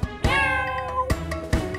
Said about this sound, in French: Le petit chat, petit chat, petit chat.